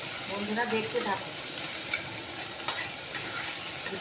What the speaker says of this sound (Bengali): প্রথমে পেঁয়াজগুলো ভেজে নিচ্ছি।